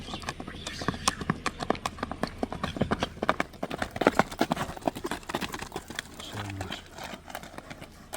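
A saddle horse clip-clops along with steady, fairly close hoofbeats in a quick rhythm, while someone talks over it throughout.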